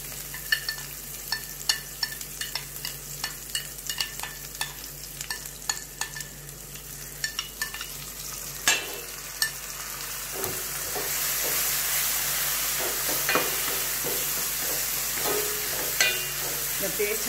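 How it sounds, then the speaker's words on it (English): Spiced brinjal paste frying in hot oil, a steady sizzle with frequent sharp scrapes and taps of a spoon stirring in the pan, growing louder and fuller toward the end. "The paste has to be fried very well in oil."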